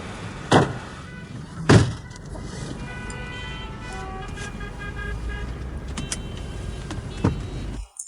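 Car interior sounds with a power window motor whirring up or down, a couple of sharp door or button thumps early on, and a steady low engine and road rumble throughout.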